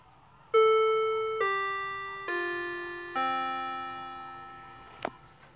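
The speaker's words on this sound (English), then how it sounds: "This one, you actually have to let it chime." A Seiko carriage clock rings four descending electronic chime notes, each struck clearly and left to ring out, then a brief click near the end, close and with no voices.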